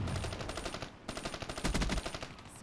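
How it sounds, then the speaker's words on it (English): Rapid bursts of automatic gunfire in the Black Ops 3 video game, a dense stream of close shots with a brief pause midway before firing resumes, with no talk over it. "Get shot through the wall."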